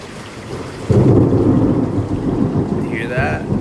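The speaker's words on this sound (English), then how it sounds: "I can see the flashes going on, but I can't see any of the thunder." A loud roll of thunder breaks in and rumbles on over steady rain pattering close by.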